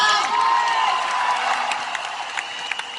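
An audience breaks into applause that starts full and dense, then thins into a few scattered claps as it fades.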